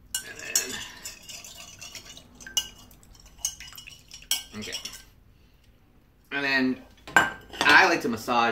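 A metal utensil stirs and scrapes venison stew in a crockpot, with scattered clinks and knocks against the pot, then thicker wet sloshing toward the end, close and moderately loud.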